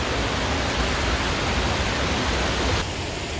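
Steady, full-band rushing roar from two waterfalls seen from a high viewpoint at the top, continuous and unbroken, easing slightly toward the end, with no voices.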